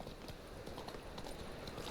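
Rapid clip-clop of Roach's hooves as the horse gallops in The Witcher 3, a steady fast rhythm under faint game ambience.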